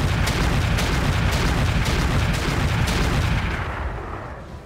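Heavy IAC-20 autocannon fire from a mech in RogueTech, the BattleTech game, a dense, continuous rumbling barrage of rapid booming shots with sharp repeated cracks, loud and sustained before tapering off at the end.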